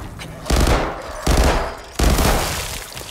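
Bursts of gunfire in the VR game Arizona Sunshine 2, three loud, close volleys each fading out, spaced about three-quarters of a second apart, with no talking.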